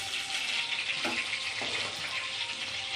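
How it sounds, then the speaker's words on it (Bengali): Fresh jiyel fish fries lightly in hot oil in a pan for a potato fish curry. A dense, steady sizzle carries on without a break, close and fairly loud, with no voices. "আমি মাছ কটা অল্প অল্প ভাজবো"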